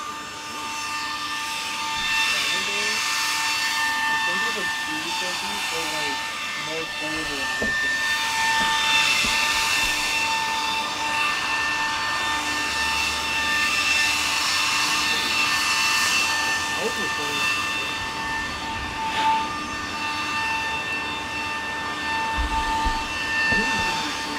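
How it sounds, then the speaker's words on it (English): A leaf blower clearing snow outdoors, running as a steady loud whooshing drone with a high whine throughout, and brief voices heard over it. "It's blowing all the snow off."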